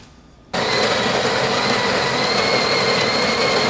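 A Breville Barista Express built-in grinder with a newly replaced upper burr starts abruptly and grinds coffee beans, a loud, close, continuous whirring buzz that holds steady to the end.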